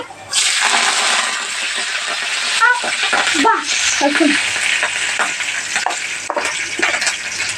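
Cumin seeds and curry leaves crackling and sizzling in hot oil, a loud continuous frying hiss that flares as the leaves go in, with brief bursts of talk over it.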